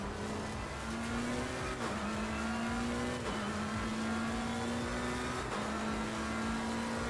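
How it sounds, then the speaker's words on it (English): A race car engine in the Assetto Corsa Competizione game roars steadily, climbing through the revs with brief dips at each gear change, loud and continuous without voices. "I think the engine sounds in this are really nice."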